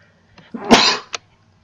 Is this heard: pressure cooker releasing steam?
no